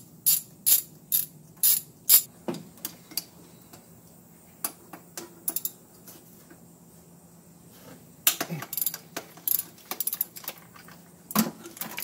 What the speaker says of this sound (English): remove the bolts to the starter